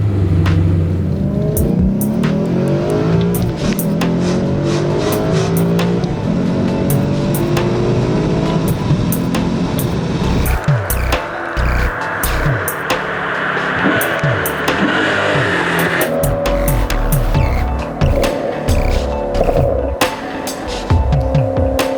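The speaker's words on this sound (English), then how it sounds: "it really allows the factory exhaust, which was special for this particular car, the GranSport, to really speak a beautiful tune" Maserati GranSport with its factory exhaust and secondary catalytic converters deleted, revving loudly and continuously with rising and falling engine pitch, close and unaccompanied by talk.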